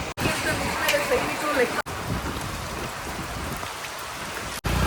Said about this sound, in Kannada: ಜೋರಾಗಿ ಇಲ್ಲಿ ಮಳೆ ಶುರು ಆಯ್ತು